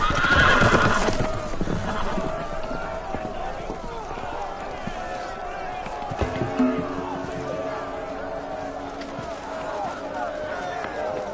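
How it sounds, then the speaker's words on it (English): Loose horses whinny and gallop in a panicked scene, sharp neighs and hurried clip-clopping hooves mixed with shouting voices and commotion, the horse calls loud near the start and recurring throughout. "The horses! They're loose!"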